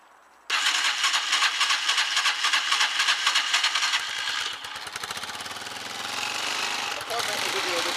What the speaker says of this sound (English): Fuel on. Choke on. Ignition on. Bit of revs.